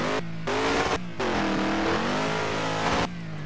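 Engine of an admin Charger in a Roblox police-chase game revving hard in first gear, a loud sustained engine roar with rising and falling pitch, briefly cutting out twice before surging again.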